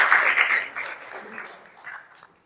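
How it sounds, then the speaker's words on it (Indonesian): Classroom applause for a student, a burst of clapping from a group that starts loud and thins out over about two seconds, with faint voices mixed in. "Oke, tepuk tangan buat Ilya."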